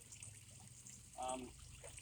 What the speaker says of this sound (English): Waterfall up over here, it goes down into like a midsection area